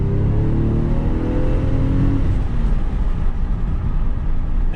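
An Aston Martin DB7 Vantage engine revs hard and close to 5200 RPM, its note climbing steadily for about two seconds before dropping back into a rough, loud rumble.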